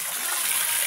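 Strong, steady rush of water pouring from a tap, bright hissing spray filling the short moment at constant loudness with no voices.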